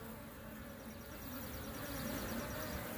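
Honeybees buzz in a steady, continuous drone while a queen bee is installed in the hive, the swarm sound close and even throughout with a slight rise near the end.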